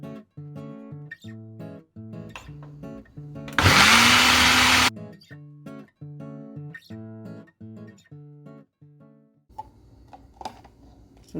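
An electric blender grinding coconut for rice porridge runs in one loud burst of about a second, set against a quieter, rhythmic background of repeating tones.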